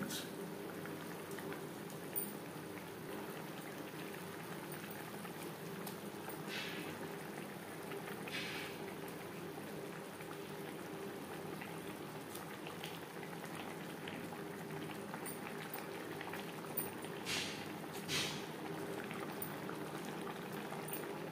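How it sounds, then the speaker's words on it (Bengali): Tomato gravy for pabda fish curry boils steadily in a pot, a soft continuous bubbling and simmering hiss with occasional louder pops, heard up close for about twenty seconds. "3-4 মিনিট গ্রেভি বেশ ভালো করে ফুটিয়ে নেওয়ার পর দিয়ে দেবো মাছ।"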